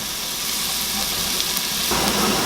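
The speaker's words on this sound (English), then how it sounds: "we're going to cook it, maybe saute it for about 3 minutes" Mushrooms sautéing in a pan, a steady close sizzle and hiss that grows louder partway through as more food hits the hot surface.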